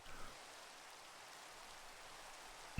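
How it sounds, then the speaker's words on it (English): Steady rain falls in a video game, a soft, even hiss of drops that stays faint and unbroken throughout. "No, the rain doesn't quite do it justice."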